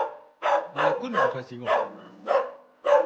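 Several rural village dogs bark loudly and close by in a run of sharp, repeated barks with short gaps between them, and a person speaks briefly.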